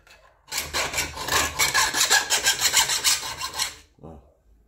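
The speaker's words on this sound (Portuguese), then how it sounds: "Uma lima que tá comendo." A steel hand file rasps against hardened steel in a steady run of rapid back-and-forth strokes, loud and close for about three seconds, then stops, followed by one short faint scrape.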